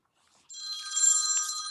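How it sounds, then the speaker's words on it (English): A telephone rings during a Zoom video call: after a moment of silence, a loud, steady electronic ring sounds close to the microphone with no talking over it. "Somebody's phone is ringing."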